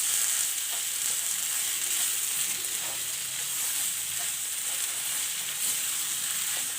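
A spiced mixture fries in a pan with an even, bright sizzle and crackle, steady and close throughout, no talking.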